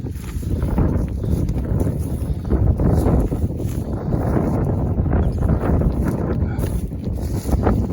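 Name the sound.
strong winter wind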